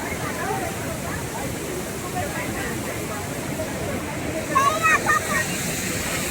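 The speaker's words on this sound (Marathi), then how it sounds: "हे बघा धबधबा." A waterfall at Khadakwasla dam roars as a steady, dense rush of falling water close by, with brief voices and splashing cutting in near the end.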